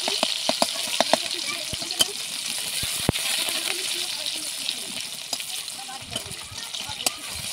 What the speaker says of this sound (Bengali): এবারে আমরা দিয়ে দেবো পেঁয়াজ কুচি দিয়ে ভালোভাবে নেড়ে চেড়ে নেবো আমরা সুন্দরভাবে।